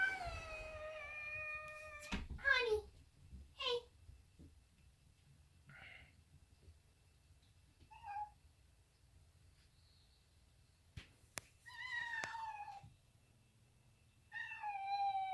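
Cats meow in a new, unfamiliar home, giving a series of separate plaintive calls spaced out over quiet stretches, some closer and louder than others, with a few soft knocks in between.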